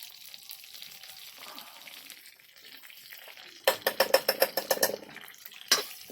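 Curry leaves drop into hot oil for a fish curry cooked over a wood-fired stove, a low quiet hiss that breaks into a loud spitting crackle of rapid pops, then one last burst.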